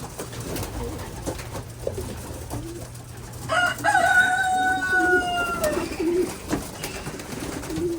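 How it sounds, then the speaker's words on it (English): Breeder hens and old bird hens in a pen wait for food, giving low cooing and a few clucks. Midway, a clear drawn-out crowing call rises above the soft background. "So these are the breeder hens and some of the old bird hens."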